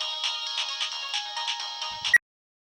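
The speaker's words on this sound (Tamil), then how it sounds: "யோ, உன் ஃபோன் தான் அடிக்குது." A mobile phone ringtone rings loudly in a repeating melodic pattern for about two seconds, then cuts off abruptly, with no voices present.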